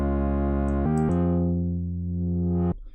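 A bright, buzzy synthesizer tone runs through a low pass filter, sustaining steadily with a couple of pitch changes before cutting off abruptly after about three seconds, with no one talking.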